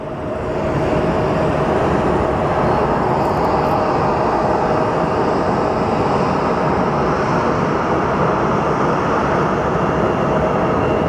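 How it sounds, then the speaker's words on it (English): A Hawaiian Airlines airliner at Phoenix Sky Harbor airport, heard as a steady, loud, broad jet roar that holds evenly throughout with no talking. "we do actually have our Hawaiian Airlines flight somewhere in that haze"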